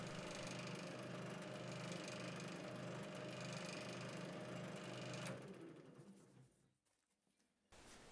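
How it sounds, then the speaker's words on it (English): A drill spinning a Scotch-Brite wheel polishes a bike part with a loud, steady whirring grind that winds down after about five seconds, then briefly starts again near the end. "I've just got a Scotch-Brite wheel on the drill, and, and yes, it's catching a bit"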